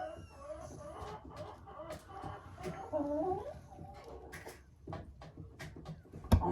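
An old hen clucks softly while laying an egg, with scattered throaty calls and a few sharp knocks and rustles at moderate distance.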